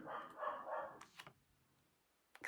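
A dog barks a few times nearby, short sharp yaps with pauses between, fairly quiet overall.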